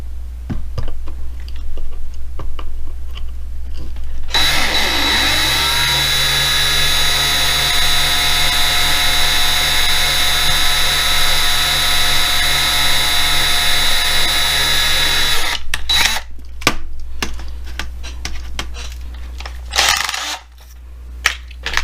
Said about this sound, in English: Drill down into it until we think we're deep enough to get past the head of the post.